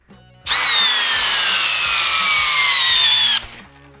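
Milwaukee cordless drill in speed 1 running in one loud, steady whine for about three seconds, with a slight pitch drop as it loads up, then stopping abruptly.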